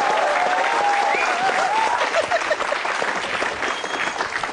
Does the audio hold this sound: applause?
yes